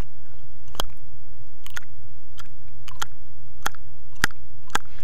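Sharp slap-tongue clicks from a saxophone mouthpiece come as about ten isolated percussive pops at an uneven pace, close and crisp over a low steady hum, with no voices.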